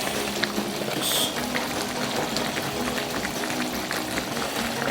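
Steady bubbling and gentle popping of a simmering pot of chicken curry, close by, with a constant low hum underneath and no voices.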